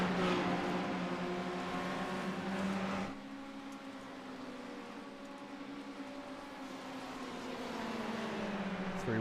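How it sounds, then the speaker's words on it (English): A Porsche race car engine drones and whines at high revs at Suzuka, dropping in pitch as it passes, then building again toward the end. "Listen to that Porsche making a hell of a noise."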